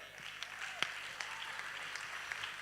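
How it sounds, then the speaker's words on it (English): Clapping from a small audience at a jazz and justice performance, a light steady patter of applause with scattered sharper claps, fairly quiet and somewhat distant, with faint voices beneath. "Did you give yourself a round of applause?"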